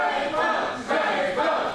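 A boxing arena crowd roars and yells in a dense, sustained wave as a fighter whips them up. The broad, rising and falling cheer sounds mixed with a commentator's voice.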